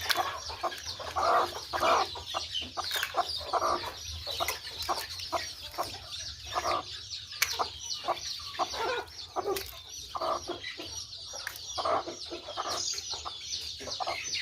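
Close, persistent clucking comes from a desi country hen with a fresh brood of chicks on a farm, with rapid, broken bursts of clucks continuing throughout and no voices.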